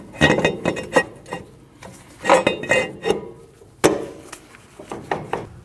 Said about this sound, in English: Slide your rotor over your e-brake shoes.